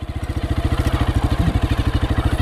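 A Honda CRF230 motorcycle idles in first gear with no clutch pulled, its single-cylinder engine thumping in a fast, even pulse, close and loud with a slight mechanical clatter.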